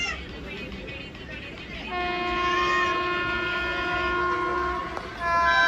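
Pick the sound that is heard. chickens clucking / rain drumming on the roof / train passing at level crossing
train passing at level crossing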